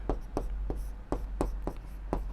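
Chalk or marker writing on a classroom board during a maths lesson, a steady series of short scratchy strokes at an even rhythm, close and moderately loud over a low hum.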